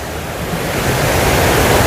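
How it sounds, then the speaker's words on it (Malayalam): Thooval waterfall in Idukki rushes with a steady, broad roar of falling water, loud and continuous without pause, slightly swelling toward the end. "തൂവൽ വെള്ളച്ചാട്ടം നോക്കൂ."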